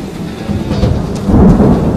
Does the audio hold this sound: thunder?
yes